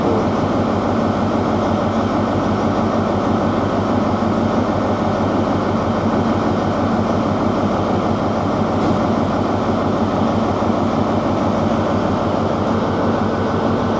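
GWR Class 43002 high-speed diesel train at London Paddington, heading for Carmarthen, with a loud, steady engine rumble and hum that drones on evenly without pause or speech.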